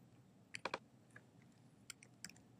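Keys on a computer keyboard are pressed in a few quick clusters of soft, crisp clicks with short pauses between them, quiet and close, over a faint room hum.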